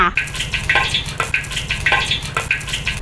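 Chopped pandan leaves fry in hot oil for traditional banana chips, giving a steady close crackling sizzle with repeated bright bursts of spattering and stirring.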